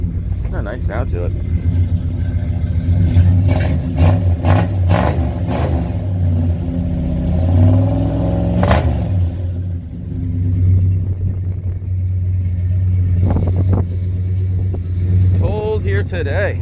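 A 1964 Ford F100 short bed pickup with a 351 Windsor V8, Hedman headers and a Holley 650 carburetor, automatic, idles with a steady low rumble and revs up briefly, with wind noise and talk nearby.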